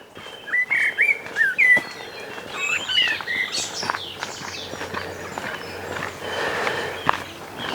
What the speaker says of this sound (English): Lovely sound of bird song.